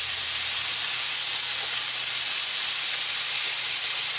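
Striped bass fries in an oiled pan, giving off a steady, loud, close hiss of sizzling that holds unbroken throughout with no voices.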